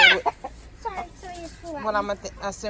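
Chickens and a rooster clucking in short, irregular bursts close by, with a person's voice mixed among the birds.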